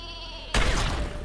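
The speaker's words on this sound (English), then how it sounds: "Sheep! No!" In Worms W.M.D., the sheep weapon gives a short, clear bleat that is cut off abruptly by a loud, booming explosion.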